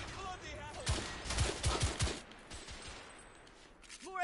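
In the video game The Order: 1886, a weapon fires on its alternate mode: a quick burst of sharp, rapid shots crackles in the middle of the clip, with voices talking before and after.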